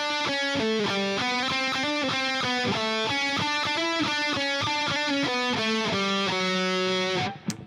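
Heavily distorted electric guitar plays a melodic theme from a song, a rapid stream of picked notes moving through a repeating phrase, loud and unaccompanied, ending with a sudden cutoff.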